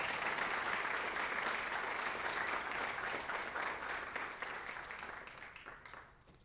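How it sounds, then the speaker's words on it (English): An audience at a high school spring athletics signing day gives a sustained round of applause for an athlete, thick steady clapping that gradually tapers and dies away. "let's get one more round of applause for Brooke Christensen"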